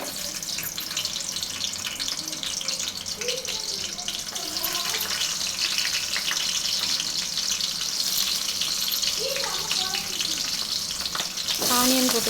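Garlic frying in hot oil makes a continuous close, bubbly sizzle, growing louder toward the end with a burst of spattering.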